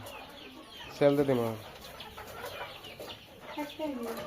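Roosters and hens on a home poultry farm cluck nearby, with a loud burst of calls in the middle and more clucks near the end, while a person talks throughout.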